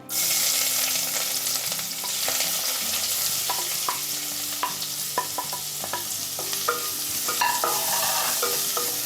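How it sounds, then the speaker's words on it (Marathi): Chopped onion and green chillies hitting hot oil in a kadhai over a low gas flame: a loud, dense sizzle runs throughout, with many quick stirring scrapes and clicks close by and a faint tonal hum underneath. "कांदो आणि मिरची कापून घेतलंय ना तर आम्ही आता तेलात घालतोय"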